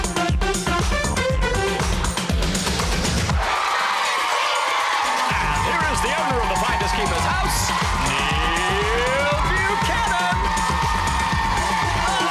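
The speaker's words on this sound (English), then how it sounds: "The crowd are wild." Game show studio audience cheering loudly over blaring theme music, a roaring crowd with whoops and shouts that stays dense and energetic throughout.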